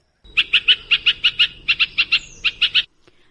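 A bird calls the same sharp, high note about a dozen times in a quick, steady series, close by and with nothing else around it.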